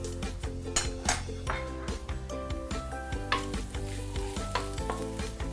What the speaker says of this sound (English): I don't mind adding a bit of garlic, but I need to lower my fire because the garlic may get burnt easily.